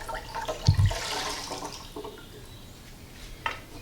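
Dirty water is poured out of a Guglatech fuel filter: a short splash and gush early on, then a soft trickling, with a small drip-like knock near the end.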